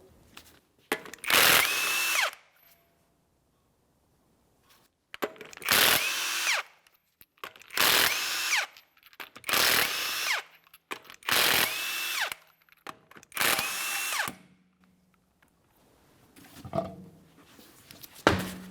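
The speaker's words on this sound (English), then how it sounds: "we're going to remove all of our 22mm lug nuts and then the wheel" A power tool spins off 22mm lug nuts from a 2017-2024 GMC Acadia front wheel in six loud whirring, ratcheting bursts, each lasting a second or two, with quiet gaps between them.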